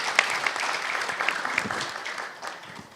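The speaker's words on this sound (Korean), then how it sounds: "우리 권 대표님 박수 한번 부탁드립니다." A seated audience at a research-institute talk concert claps in a short, dense burst of applause. It sounds steady and moderately near, then eases slightly toward the end of three seconds.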